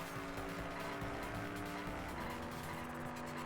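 Car engine from the video game Danganronpa V3: Killing Harmony, a steady loud drone with tire squeal and skidding throughout, with no talking.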